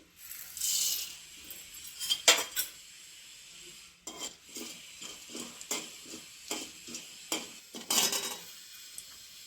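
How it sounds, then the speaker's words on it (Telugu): Oil for tempering sizzles and crackles in a pan on a lit stove, heard as a loud hiss early on and then a string of sharp spattering pops and utensil clinks, close by and with no talking. "స్టవ్ వెలిగించి బాణీ పెట్టాను ఆయిల్ వేస్తున్నాను పోపు వేయించడానికి తగిన ఆయిల్"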